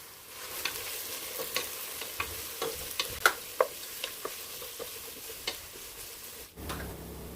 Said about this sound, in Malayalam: ഇനി ഇത് എണ്ണയിലേക്ക് 2 ഉള്ളി ചെറുതായിരിഞ്ഞത് ഇട്ട് കൊടുക്കുന്നുണ്ട്.